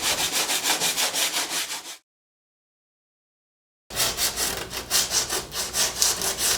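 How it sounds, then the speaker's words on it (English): Rhythmic back-and-forth sanding strokes rasp against an RV-7A aircraft canopy, stopping for a couple of seconds of silence before resuming at a steady pace. "Well, it turns out it's sanding. Lots and lots and lots of sanding."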